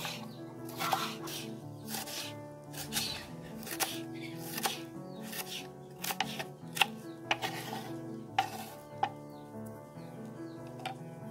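A knife chops chile on a cutting board in a home kitchen, giving a steady run of quick, light taps that sit beneath a continuous background of music.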